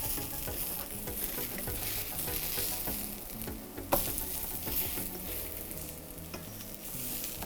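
Arepas browning in a hot pan, a steady close sizzle and crackle of frying throughout with a brief louder pop midway.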